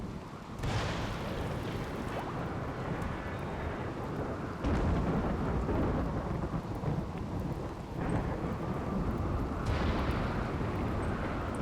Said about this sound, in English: Good thing it's raining.